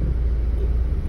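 A 2008 Honda City engine idles with a steady, even rumble, its low hum holding constant without dipping or stalling over a brief moment.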